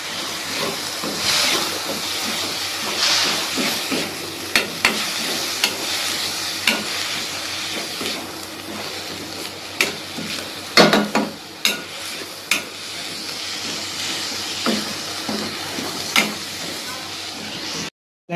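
Finely chopped banana flower cooks in a pan, giving a continuous close sizzle and steamy hiss with occasional clinks and stirring scrapes. It stays fairly loud and steady, then cuts off abruptly at the end.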